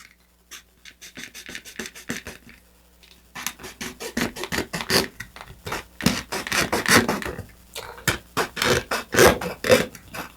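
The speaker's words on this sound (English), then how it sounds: "So as before, score and cut through along the groove." Repeated scraping and rasping as a hobby knife scores and cuts a model rocket part along a molded groove, close and fairly loud, in short irregular strokes that build in intensity over several seconds.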